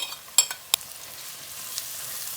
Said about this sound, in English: When I add the garlic, then I'm going to fry another 2 minutes.